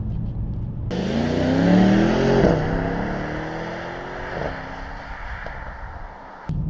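Mercedes-AMG E63 S 4Matic accelerating hard from inside the cabin, a loud engine roar rising through the gears with pitch sweeps and brief shift dips, continuous and close.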